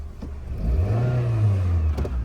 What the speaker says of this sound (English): Engine sounds smooth.